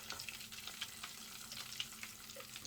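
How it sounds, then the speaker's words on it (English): Crispy calamari fries in a pan with a quiet, steady hiss, and faint pops and crackles come through at a distance. "And let's fry the second batch."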